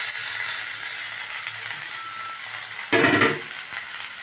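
Boiled potatoes tipped into a hot pan of oil and chicken masala while cooking Assamese egg dum: a steady close sizzle, then a short, louder splattering thump as they land near the end, with frying continuing underneath.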